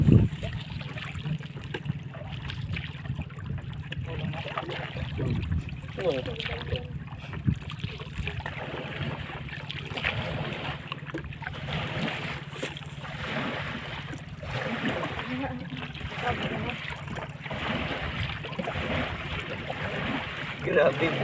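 A boat's motor runs steadily on open water off Candijay, Bohol, heading toward a sandbar, a constant low drone with splashing and wind noise throughout, and voices talk intermittently over it.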